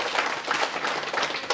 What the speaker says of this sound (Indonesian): Beri tepuk tangan dulu untuk Pak Joko.